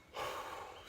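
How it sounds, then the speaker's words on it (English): A single deep breath, a soft, airy exhale that swells quickly and then holds steady for under a second. It is close but quiet, with no speech. "Doing the deep breathing."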